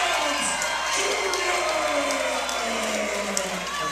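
Boxing crowd at the Durham Armory in North Carolina cheering for fighter Michael Williams: a dense, steady roar of voices with shouts and whoops that holds for the whole stretch.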